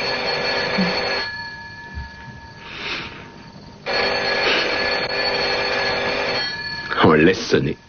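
Telephone ringing in a drama scene, with two long electronic ring bursts separated by a pause and a voice speaking over the end.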